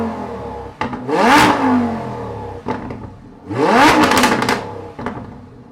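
A VF800 supercharged Lamborghini Huracan revs hard twice in close succession, each surge climbing with a rising whine and roar before dropping off, with sharp cracks between the pulls.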